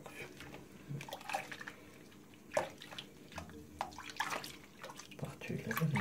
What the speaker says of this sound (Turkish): Hadi gel yıkayalım artık seni.